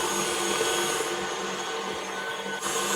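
An electric mixer beats butter and icing sugar for vanilla buttercream, giving a loud, steady whirring drone close by that runs without a break and with no talk.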